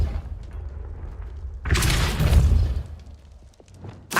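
A single Confringo blasting spell in Hogwarts Legacy erupts as one sudden, heavy explosion with a deep boom that rings for about a second, then fades back to quiet.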